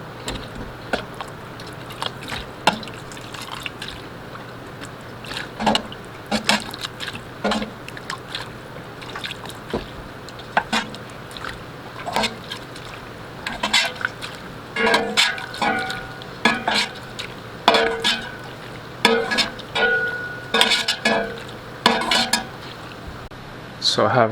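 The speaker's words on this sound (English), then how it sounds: "I'm just going to ladle my stock into this container with a strainer" Chicken stock is ladled from a pot through a strainer into a container, with repeated clinks of a metal ladle against the pot and strainer and splashing pours at irregular intervals, all close and fairly loud.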